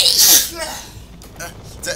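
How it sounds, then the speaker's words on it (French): A sudden sharp sneeze bursts out near the start, followed by a brief breathy sound and a quiet pause. "La prochaine fois, préviens avant d'éternuer."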